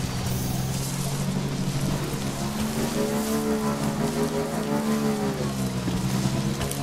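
Timefall rain in the video game Death Stranding pours down as a steady, dense hiss of drops, with a low droning hum underneath and no talking.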